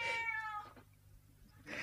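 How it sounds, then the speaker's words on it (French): A domestic cat gives a single clear meow, close and alone, with a short tonal cry followed by a quieter tail and a brief rustle at the end. "c'est le miaulement du chat"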